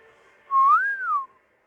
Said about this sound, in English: I can't whistle too loudly.